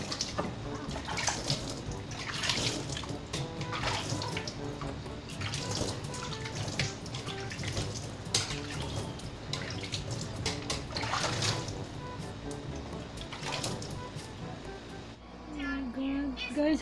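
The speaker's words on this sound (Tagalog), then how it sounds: "Maghihilamos muna ako" Running tap water splashes steadily while a woman washes her face at a sink, broken by intermittent splashes and ending in a quieter drip; her voice is heard at times over the water.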